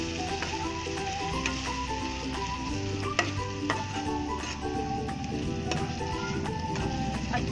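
Spices sizzle in hot oil with garlic paste and tomato-ginger for a jackfruit curry. The frying crackles steadily and close up, with occasional clicks of stirring and no voices.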